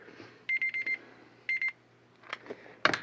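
A kitchen timer set for French press coffee beeps in two short bursts, a rapid run of four beeps followed by a pair. Light handling noises come after them, and no one speaks.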